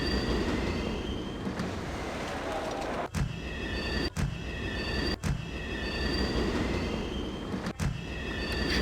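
Subway trains in the Sim City 3000 video game squeal on their rails over a steady rumbling hum, with several short sharp clicks cutting in at regular intervals.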